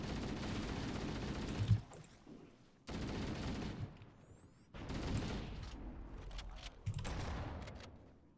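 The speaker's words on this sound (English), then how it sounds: "Who's shooting rockets?" Rockets fire in a Halo match: bursts of gunfire and explosive launches come in loud clusters, broken by short pauses, with a faint whistle between volleys and no voices.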